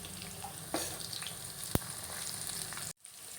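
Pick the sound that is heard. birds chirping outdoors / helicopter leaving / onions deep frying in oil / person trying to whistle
onions deep frying in oil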